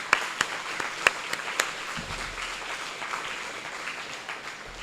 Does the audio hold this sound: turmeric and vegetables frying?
no